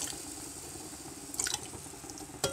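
Water splashing and trickling as the water used to boil chickpeas is poured into a cooking pot, a steady liquid wash close by with a couple of brief louder splashes.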